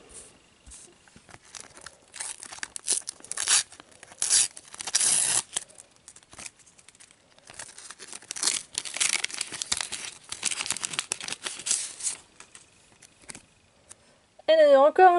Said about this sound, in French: Et donc on va ouvrir un autre booster